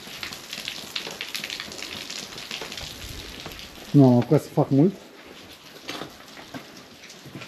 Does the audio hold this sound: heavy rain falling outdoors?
yes